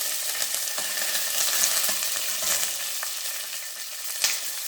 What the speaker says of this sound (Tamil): இப்போ கருவேப்பிலை, 4 வரமிளகா போட்டுருக்கேன்.